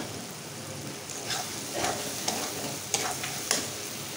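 Fried potatoes tipped into a pan of well-cooked sizzling masala for Dhaba-style chana dal, a steady soft sizzle with several sharp scrapes and clinks as the spoon stirs.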